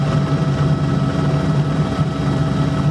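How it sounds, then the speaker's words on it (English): Large water-bombing firefighting helicopter, a heavy-lift aircraft, with a steady loud rotor and engine drone holding a constant low throbbing hum throughout, close and continuous with no voices. "This is one of the largest water bombing helicopters in the world."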